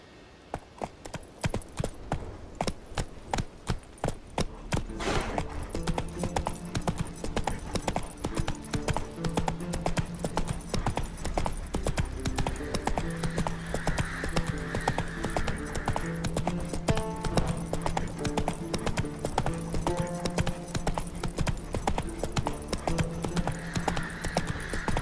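Roach the horse trotting in The Witcher 3, hooves clip-clopping in a steady, even rhythm that starts soft and grows louder, with faint music underneath.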